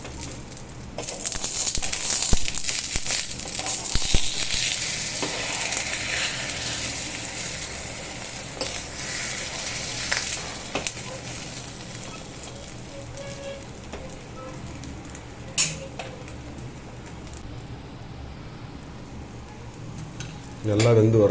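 A karandi omelette fries in oil inside a ladle, giving a steady crackling sizzle with occasional louder pops and scrapes, close and continuous throughout with no talking.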